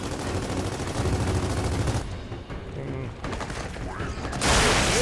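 Rapid gunfire and headshots in the Xbox One shooter Gears of War 4, dense continuous bursts close and loud, with a player talking over the action.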